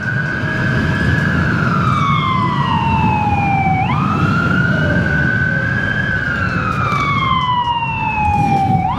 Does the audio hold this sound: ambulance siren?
yes